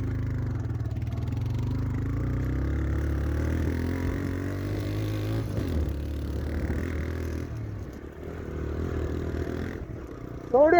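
A motorcycle engine idles and runs with a steady low rumble, close by, under intermittent talk, ending with a short louder burst.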